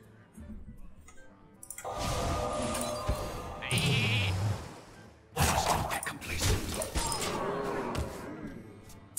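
A sheep bleats in the Hearthstone card game, layered with loud game effects like shattering, squishing and whooshing bursts that fill most of the moment.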